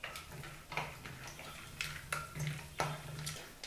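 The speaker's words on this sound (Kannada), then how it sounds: "2 ಟೇಬಲ್ ಸ್ಪೂನಷ್ಟು ಕಡಲೆಕಾಯಿ ಬೀಜನ ಹಾಕಿ ಲೋ ಫ್ಲೇಮ್ನಲ್ಲೇ 1 ನಿಮಿಷಗಳ ಕಾಲ ಫ್ರೈ ಮಾಡ್ಕೋಬೇಕು." Peanuts frying on a low flame in hot oil in a pan, with soft stirring clatter and scattered light ticks over a quiet background hiss, no speech.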